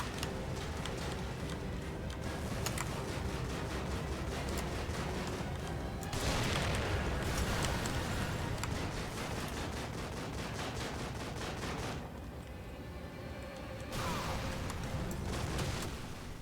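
A turret in The Evil Within fires sustained rapid bursts that rattle on as a dense, continuous barrage. Booming surges and short breaks come between volleys, all fairly distant and muffled.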